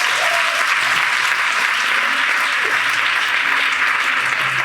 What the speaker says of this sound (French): Ton acclamation peut être puissante que ça.